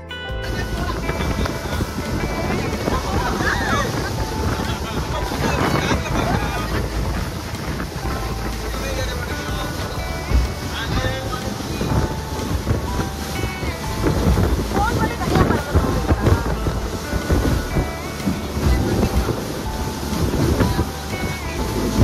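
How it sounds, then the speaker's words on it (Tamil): A boat crosses the open sea toward an island in Malaysia, its engine drone mixed with loud wind buffeting and splashing waves, continuous and close throughout. "போட் இப்ப கிளம்பி போய்கிட்டு இருக்கு."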